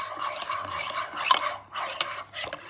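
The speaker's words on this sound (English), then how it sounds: "You need to mix it very good, properly." A spoon stirring a yeast mixture in hot tap water, scraping and clinking against a container in quick continuous strokes, close and moderately loud, with no talk.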